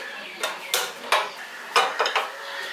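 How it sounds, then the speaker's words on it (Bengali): A wok is set down on a gas stove in a village kitchen. About half a dozen sharp metallic clanks and knocks land at uneven intervals over a quiet background. "কড়াইটা বসিয়ে দিচ্ছি।"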